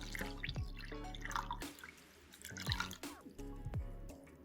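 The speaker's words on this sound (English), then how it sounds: "that's gonna be rinsing our filter" Water pours and drips onto a paper filter in a home batch-brew coffee setup, a few splashing drips and trickles with brief quiet gaps between bursts.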